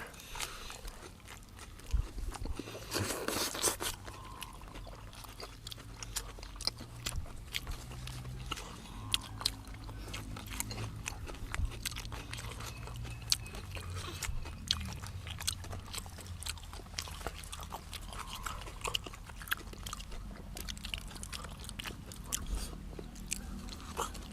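Pickled salmon eaten with carrot, chewed close to the mic with wet, crunchy bites repeating steadily over a long stretch, no speech.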